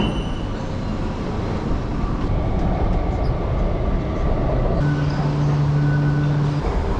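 A subway train in China rumbles loudly along the track, a dense constant roar from inside the carriage, and a steady low hum joins it near the end.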